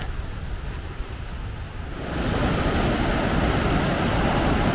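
A mountain torrent rushing beneath a footbridge, a constant broadband roar that swells louder midway as it is approached, with no talking.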